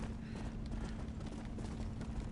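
Galloping horse hooves in the video game Red Dead Redemption: Undead Nightmare, a fast, steady run of clip-clop beats heard up close against a low background rumble.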